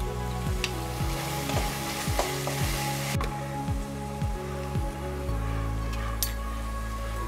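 Green chili and garlic paste hits hot oil in a kadai, giving a steady close sizzle and fry with scattered spatters and a faint rhythmic stirring scrape, no voices.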